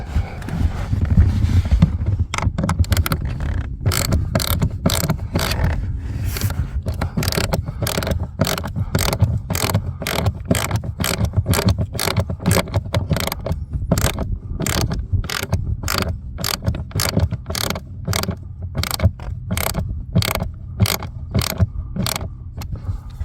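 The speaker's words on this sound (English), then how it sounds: "And then we'll get the ratchet to finish." A ratchet tightens a screw on the cabin filter housing of a Mercedes-Benz S560, giving a long run of close, steady clicks. Each burst of clicks is followed by a brief pause as the handle swings back, repeating for about twenty seconds with no talking.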